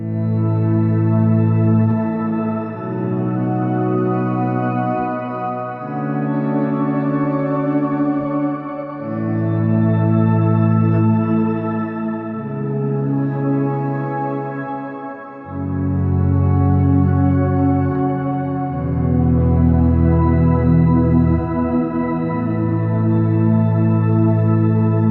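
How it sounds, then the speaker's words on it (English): Shimmer reverb from a Collider Delay+Reverb pedal in a guitar-effects demo: sustained chords ring out and swell, wrapped in a bright, pitch-shifted, octave-up wash. Shifting chord changes come every few seconds, loud and dense, with no talking. "And here it is with the shimmer reverb."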